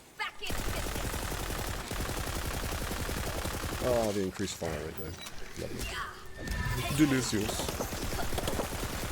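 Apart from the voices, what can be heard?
gunfire in a video game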